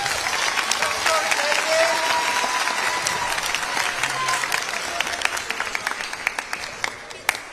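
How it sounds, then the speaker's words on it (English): Audience at a middle and high school band spring concert claps in sustained, dense applause that holds steady for several seconds before gradually thinning into scattered claps. "We want to give them a round of applause for that."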